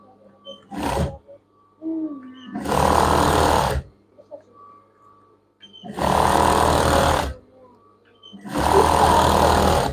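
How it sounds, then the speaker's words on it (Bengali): A sewing machine stitches over elastic stretched on fabric for children's pyjamas, running in three loud close bursts of a few seconds each with quieter pauses, brief handling noises and a faint voice between. "এখন আমি রাবারের উপরে সেলাইটা দিব এভাবে টেনে নিয়ে সেলাইটা করতে হবে"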